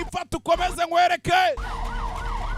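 An ambulance siren in a film wails in a rising and falling cycle, loud and close, following a burst of dramatic speech and effects.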